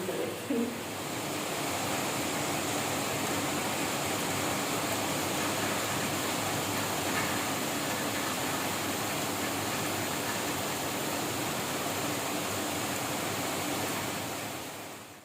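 Steady rain falling outdoors, a continuous, even broadband hiss that holds at a moderate level for the whole stretch before easing slightly at the end.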